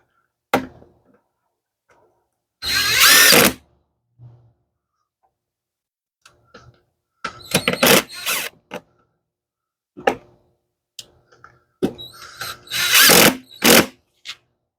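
Power tool spinning a 10 mm nut onto a 2013-2016 Dodge Dart during an engine and transmission replacement: several short, loud whirring bursts separated by quiet gaps with light clicks and handling noises.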